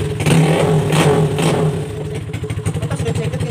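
Kawasaki KLX 150 motorcycle with no exhaust fitted starting up and running loud and close, a rough harsh burst settling into a rapid clattering idle.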